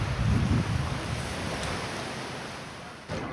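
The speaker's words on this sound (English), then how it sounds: "Waterfall." Steady broadband rushing of a waterfall on Buffalo Bayou, heard from a canoe, fills the clip, loud and constant, with a brief dip near the end.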